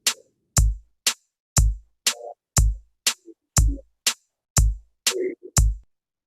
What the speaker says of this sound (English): And if I add a hi-hat on every single beat,